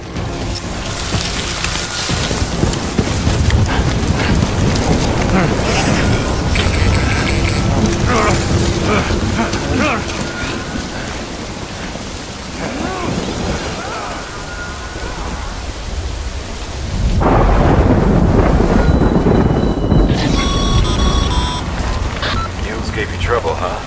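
Heavy rain in a video game pours as a dense, loud wash throughout, surging in intensity partway through, with mechanical game sounds mixed in and voices talking over parts of it.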